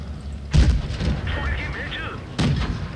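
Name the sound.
tank firing HE shell in World of Tanks Blitz video game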